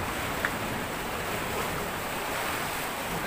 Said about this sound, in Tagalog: Grabe yung mga alon mga kabady.